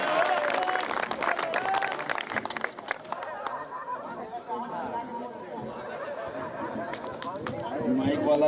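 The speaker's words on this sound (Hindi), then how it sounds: "जोरदार तालियों से आप उनका स्वागत करेंगे।" An audience at a Hindi poetry gathering (kavi sammelan) in Bilaigarh claps to welcome a poet, dense clapping strongest in the opening seconds and then thinning, with crowd chatter and voices mixed throughout.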